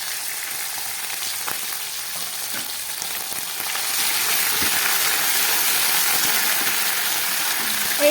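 Ginger paste, green chillies and grated coconut fry in a pan for khichuri, a steady dense sizzle that swells louder halfway through, with faint stirring clicks and no talking.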